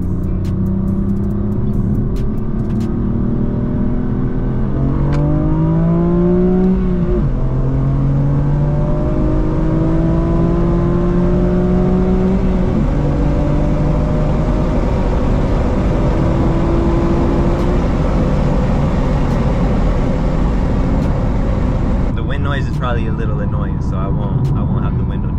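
Stock manual BMW M4 Competition F82, set to Sport Plus, accelerating hard: a loud, close engine note climbs steadily through the revs, with distinct gear shifts breaking the rising pitch before it settles into a sustained high roar.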